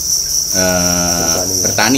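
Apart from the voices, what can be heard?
crickets chirping at a cricket farm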